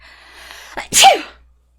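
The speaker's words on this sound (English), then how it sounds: "I have to sneeze" A single sharp sneeze, close and loud, preceded by a short inhaled breath, then quiet.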